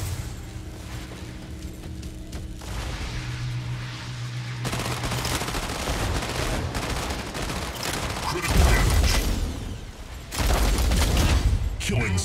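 Dense game gunfire from the mech combat game Mech Arena, rapid machine-gun bursts and booming impacts rolling almost continuously for about twelve seconds, loud and close with brief swells in intensity.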